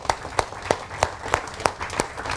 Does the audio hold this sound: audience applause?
yes